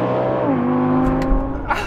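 An Audi R8 with a V8 engine accelerates hard during a drag race, its steady rising engine note dipping once at a slowish gear change before climbing again, loud and close throughout.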